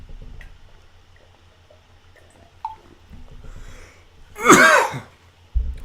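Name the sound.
person coughing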